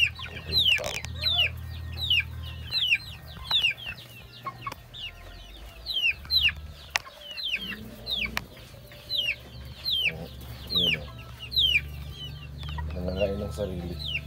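A mother hen with about twenty chicks and some larger chickens cluck steadily nearby while the chicks peep in quick, high bursts throughout, over a low, constant background hum.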